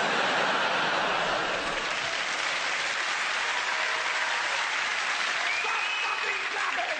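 Live theatre audience at a comedy stage show applauding steadily, a dense continuous wash of clapping that stays loud and even throughout with no voices on top.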